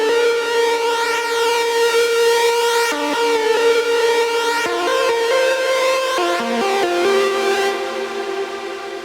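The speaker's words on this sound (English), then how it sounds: "The video was about this lead sound here, which I stumbled upon while messing around with Hive" A bright uplifting-trance synth lead made on the Hive synthesizer plays a sustained, richly layered melody with stepwise note changes, loud and continuous with no voices.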